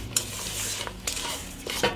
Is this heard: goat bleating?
no